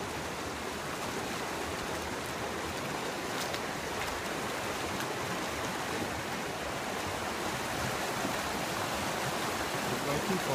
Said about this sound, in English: Going to the creek.